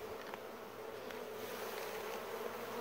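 Honeybees buzzing in a steady, dense drone close by while they are swept into a bowl for a sugar roll mite check, with no pauses and no talking.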